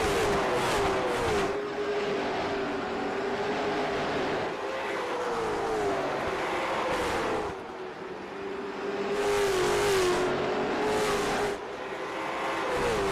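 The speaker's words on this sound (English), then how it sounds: "Tristan Brunelli, he is driving the car very hard." Late model stock race cars roar around South Boston Speedway in a sustained, loud engine drone with rising and falling pitch as cars pass close by, several surges and fades across the clip, with no talk over it.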